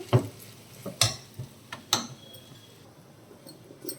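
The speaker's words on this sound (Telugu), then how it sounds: "మొత్తం కలిసేలాగా కలుపుకుందాం అంతే అండి స్టవ్ ఆఫ్ చేసుకొని కలుపుకుందాం మంచిగా" A spoon knocks and scrapes against a pan while okra and onion curry is stirred with spice powder, giving a few sharp, separate clinks spaced roughly a second apart, close up, with no talk.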